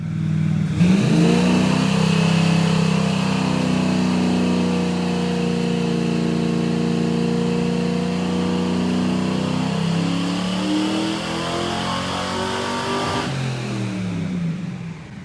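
An engine on a dyno revs steadily under load for a long sustained pull at 30 degrees of timing, pitch climbing smoothly and holding loud and close before cutting off near the end.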